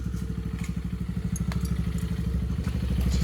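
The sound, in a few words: Tao Motors GK110 mini kids go-kart engine running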